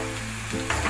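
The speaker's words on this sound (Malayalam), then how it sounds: "ഇത് നന്നായിട്ട് വഴറ്റി കൊടുക്കുക." Coriander powder sizzles and fries in an oiled pan while being stirred for a Kabul chana curry, a brief, close, steady crackle.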